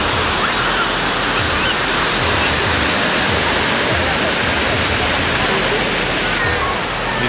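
Steady broadband roar of ocean surf at Coronado Island beach in San Diego, continuous and fairly loud throughout with no clear break between waves.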